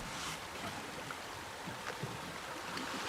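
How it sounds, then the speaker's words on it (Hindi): Oars dipping and pulling through water, a steady close wash of splashing and swirling with soft repeated strokes and no voices. "चप्पू पानी के अंदर।"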